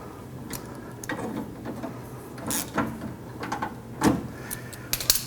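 Metal door-glass stop on a 1968-69 Camaro or Firebird door being raised and its bolt locked down: scraping, ratcheting mechanical clicks and rattles inside the door, close-up and moderately loud, with a few sharper knocks near the end.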